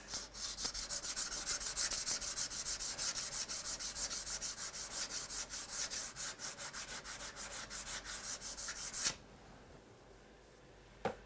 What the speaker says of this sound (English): I can sand this stuff.